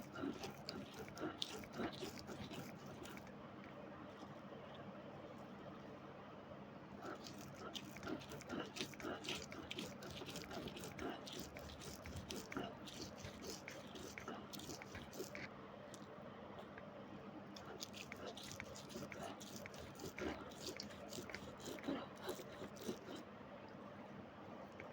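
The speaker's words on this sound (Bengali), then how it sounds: "এবার সব কিছু দিয়ে সুন্দর করে বেটে নিব।" Dry red chilies, green chilies, fried onion and fried garlic crushed into a paste on a flat grinding stone for a taro-leaf mash: a close, continuous rough scraping with a steady back-and-forth rhythm that never pauses.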